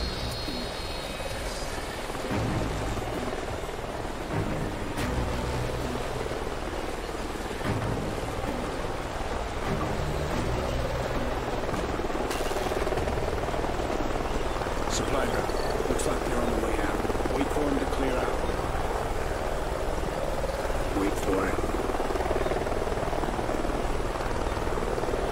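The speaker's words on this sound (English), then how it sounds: "Sounds like a chopper's up ahead of us." A helicopter in the video game Call of Duty Ghosts, a continuous loud rotor drone filling the scene throughout, with steady engine and blade noise and no clear fade.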